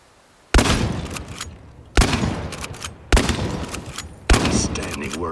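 Four heavy shotgun blasts in the game Chernobylite, evenly spaced about a second apart, each a sharp loud crack trailing into a short rumbling echo.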